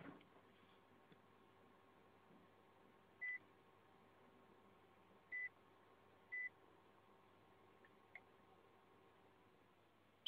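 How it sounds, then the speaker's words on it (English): A PlayStation 3 console powering off after a system update gives a few short, faint electronic beeps spaced a couple of seconds apart over a quiet hiss, with no talk. "Hear the beeps and your PS3 is now turned off"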